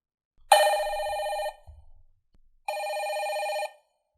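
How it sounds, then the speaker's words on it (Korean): An old-style telephone bell rings in two long, loud bursts separated by a pause, clear and alone in a Korean radio drama. "영란은 뛰어가서 전화를 받았다"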